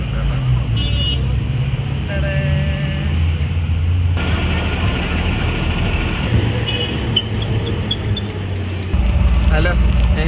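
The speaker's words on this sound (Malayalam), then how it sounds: "അത്യാവശ്യം നല്ല ട്രാഫിക് ഉണ്ട് കേട്ടോ" Busy city street traffic in Delhi, heard from the front of a moving tuk-tuk, with a steady engine rumble, passing vehicles and repeated horn toots near and far throughout, and occasional voices.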